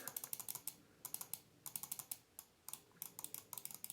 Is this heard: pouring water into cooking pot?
no